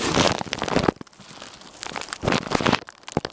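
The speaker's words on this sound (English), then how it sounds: "I put a plastic bag around the camera and taped it shut" A plastic bag taped around a camera crinkles loudly in a snowstorm, coming in dense close bursts of rustling and crackling, with rougher stretches between them.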